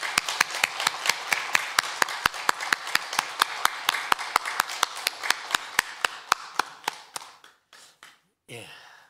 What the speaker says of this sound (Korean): 힘찬 박수로 영광 돌립니다.